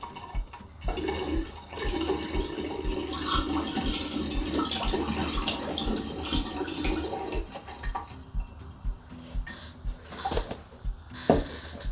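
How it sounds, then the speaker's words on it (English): Apple juice pouring and splashing steadily into a container, then breaking into intermittent trickles and drips toward the end. "So now I'm going to add the rest of the apple juice."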